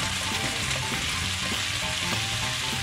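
Onions frying in a pan for an Italian-style calves liver and onions dish, a steady close sizzle with faint stirring, continuous and fairly loud with no talking.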